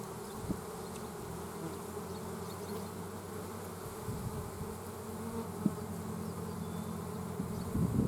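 A hive of honeybees drones with a dense, steady buzz close by, with a few soft knocks as the hive is handled.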